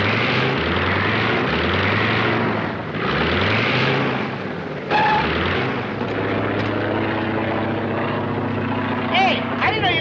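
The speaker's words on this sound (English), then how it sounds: "Hey, I didn't know you could drive a plane." A propeller airplane drones in flight in a 1955 comedy with the Keystone Kops, its engine pulsing and shifting pitch, loud and near, with voices talking over it.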